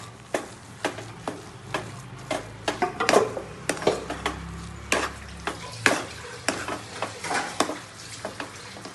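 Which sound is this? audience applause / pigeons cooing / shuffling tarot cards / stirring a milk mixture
stirring a milk mixture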